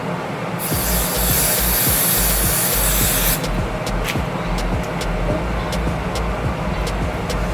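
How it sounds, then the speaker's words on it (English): Freeze spray hisses in a steady, close burst of about three seconds as it is sprayed onto a lace frontal wig, followed by light handling taps over a low rumbling background. "I'm going to take my freeze spray."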